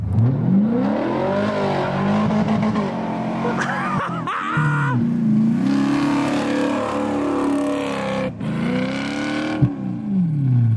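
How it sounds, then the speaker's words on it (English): A truck engine with a manual valve-body transmission revs hard and bounces off its rev limiter, the loud engine note climbing and falling repeatedly with brief cut-outs, close and continuous throughout. "That rev limiter was sick, dude."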